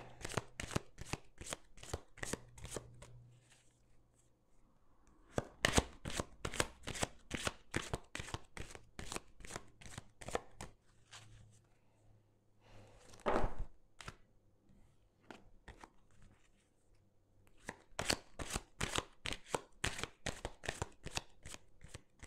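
Tarot cards being shuffled and cut in a series of rapid crisp riffles and slaps, close and fairly quiet, arriving in bursts with short pauses between them.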